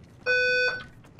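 An alarm in the video game Apex Legends beeps loudly in a steady, sustained electronic tone, cutting off and then starting again near the end.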